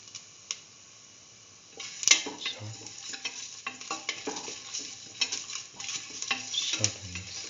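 Cardamom pods hit a hot pan and are stirred, a soft sizzle beneath repeated close scraping and tapping of a utensil against the pan, growing busier after a quiet start.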